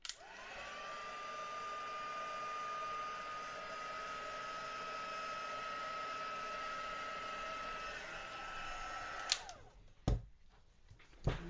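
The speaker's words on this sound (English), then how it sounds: "Pop the heat tool on." A heat tool blows a steady, loud whir over a watercolour pencil flower painting for about nine seconds, then cuts off, followed by a few sharp clicks and knocks.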